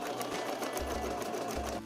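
A sewing machine stitches a strap onto a tarp bag, running with a steady, continuous whir close up and no talking.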